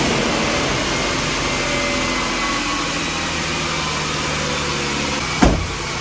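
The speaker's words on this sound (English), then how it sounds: "the only way for us to find out is to start this thing up and see if the engine knocks." A 2008 Ford Explorer's 4.0-liter V6, smoking from the tailpipe, runs at a steady close idle with a constant whirring drone, broken near the end by one sharp click.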